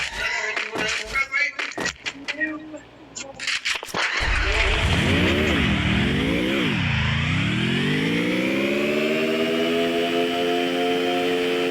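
A car in a video game starts with clattering and brief voices, then its engine revs up and down loudly and settles into a steady high whine as it drives.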